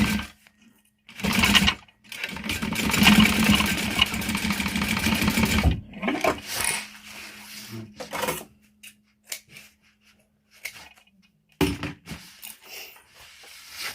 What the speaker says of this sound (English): Quarter inch back stitching at the beginning and the end.